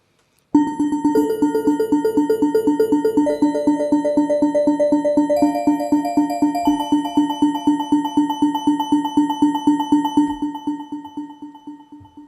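Short plucked notes from the Alien Child synth pluck preset repeat in a quick, even rhythm, forming a bright arpeggiated pattern that rings clearly before thinning out and fading at the end.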